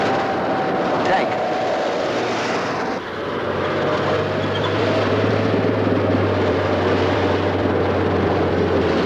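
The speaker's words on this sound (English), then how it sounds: "Tank." Military tank moving in a 1962 World War II TV drama scene, a loud continuous engine roar and grinding rumble that fills the whole stretch without letting up.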